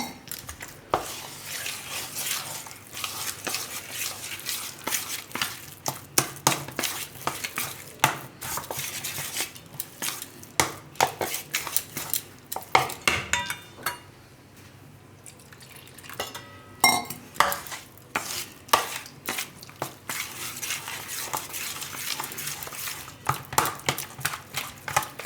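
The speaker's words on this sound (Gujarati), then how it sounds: "એકદમ આ રીતે મિક્સ કરી લેવાનું એટલે ખાંડ ઓગળી જાય" Pancake batter with sugar stirred in a bowl, a steady run of close clinking and scraping of a utensil against the dish, with brief pauses and no talking.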